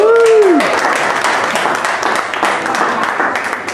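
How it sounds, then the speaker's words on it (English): Restaurant diners applauding a singer, a sustained crowd clapping that starts strong and slowly thins, with a short tonal voice at the very start. "I'd like a big round of applause, please,"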